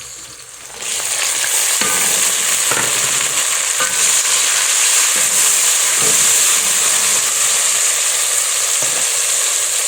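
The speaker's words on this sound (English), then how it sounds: "And then we put in our tomatoes." Tomatoes hit a hot pan and set off a loud, steady sizzle that holds for the whole stretch. Faint scrapes and knocks of stirring sound through the hiss now and then, and no one speaks.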